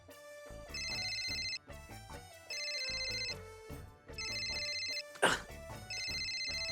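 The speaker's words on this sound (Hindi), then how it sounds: "आपका मोबाइल फोन है, उस पे किसी का फोन आ रहा है।" A mobile phone rings with an incoming call indoors at night, a bright electronic ringtone melody repeating in four bursts with short gaps, moderately loud, with a brief voice-like exclamation near the end.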